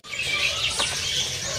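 Songbirds chirp close by at a bird seller's kiosk, with bright, rapid overlapping tweets and calls sounding continuously with no pauses.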